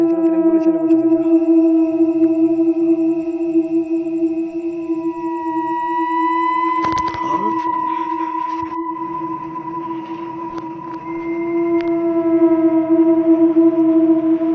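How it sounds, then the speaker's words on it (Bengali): Ambulance siren wailing loudly and steadily at night, holding long sustained tones with a brief clattering burst partway through, no voices present. "অ্যাম্বুলেন্স এনে কোথা থেকে?"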